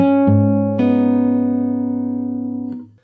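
Guitar notes in a short pull-off pattern over a ringing open low E bass string, three separate attacks spread across a few seconds with long even sustain, played solo and close with no speech.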